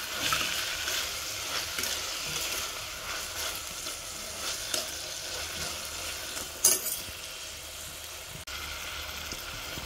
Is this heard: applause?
no